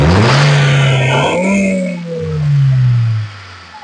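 A car's 1.2-litre Kappa engine revs loudly close by, its pitch rising then falling away as the throttle eases off.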